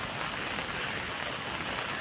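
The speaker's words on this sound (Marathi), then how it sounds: "वारा पाऊस भरपूर आहे" Steady, dense hiss of rain with wind, continuous and fairly even throughout, with a soft broadband rush.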